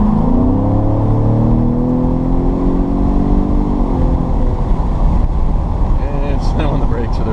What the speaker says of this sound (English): Alright, I'm going to do another full throttle right here.